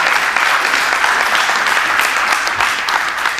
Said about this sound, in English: someone wants to clap there, I saw that